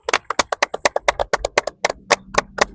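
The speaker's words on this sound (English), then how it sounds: "Let's clap it up for that." A small group clapping hands, with sharp, fairly quick claps in a loose, uneven rhythm, close and clear with no talk over them.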